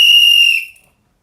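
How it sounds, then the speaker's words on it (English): A single sharp, high whistle blast sounds loud and close, holds for about half a second, then fades out quickly into silence. "can Stephen and Robert get a whistle?"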